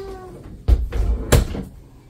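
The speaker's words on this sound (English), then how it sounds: "let me close this door" A cabinet-style door shuts inside a Dynamax Isata 5 Class C RV, two close, sharp thumps about half a second apart with a faint rattle afterward, no talking.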